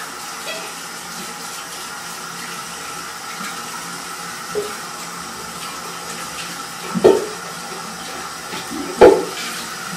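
Water runs steadily from a tap with a soft continuous rush, punctuated by a few brief knocks and clunks nearby.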